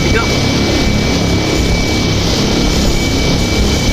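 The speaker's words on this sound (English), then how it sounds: "I just started up the aircraft there. Showing them the sounds." A Carenado C208 Caravan turboprop engine in the X-Plane 11 flight simulator running after startup, a loud, steady drone with a constant high whine held throughout.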